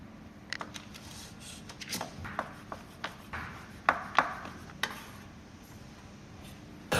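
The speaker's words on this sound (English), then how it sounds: "Okay, so I'm just mashing together these ingredients." Agria potatoes, beans, cilantro and butter are mashed together in a bowl, making soft squelching presses and irregular knocks of the masher, close and fairly quiet.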